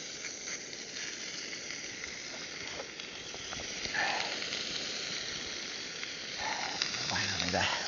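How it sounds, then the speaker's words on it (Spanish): Iberian presa pork steaks sizzle steadily in a hot pan at a campsite, a constant broadband hiss with brief louder pops and spits, and a faint voice briefly audible underneath. "vamos a echar los filetitos"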